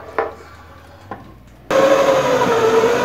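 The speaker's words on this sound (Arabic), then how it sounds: "دابا غنديرو كريم باتيسير في الخلاط" A blender mixing pastry cream starts up abruptly after a couple of small knocks, then runs loud and steady with a whirring motor drone to the end.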